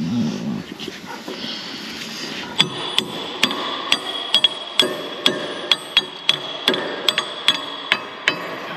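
Steady, repeated hammer blows ring out close by during repair of a Dresser IH TD-25G track frame, sharp metallic strikes at a regular pace, with a dog barking in the background.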